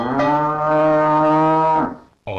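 Cartoon cow from an Asterix video game letting out one long, loud, close moo, a sustained droning low call lasting nearly two seconds before cutting off, followed by a brief sound onset at the very end.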